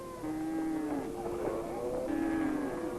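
Cattle on a commercial ranch in Africa low steadily, with two drawn-out moos rising and falling over a dense, continuous outdoor background.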